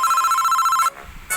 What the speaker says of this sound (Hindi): अरे यह किसका फोन बज रहा है?